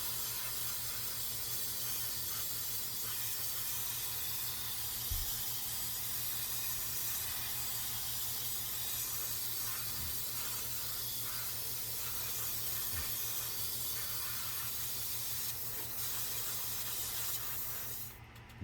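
An Iwata airbrush lays down a thick coat of paint with a continuous, steady close hiss that runs unbroken for the whole stretch and cuts off at the end.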